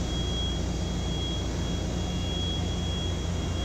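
Main engine turbochargers on a tanker, one near 1000 rpm and the other near 900, whine and roar continuously in a loud engine room, with a steady high-pitched tone over dense broadband noise.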